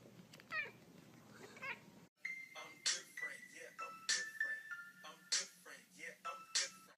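A cat meows repeatedly, several short, high-pitched cries in quick succession, clear and close, with brief indistinct sounds before them.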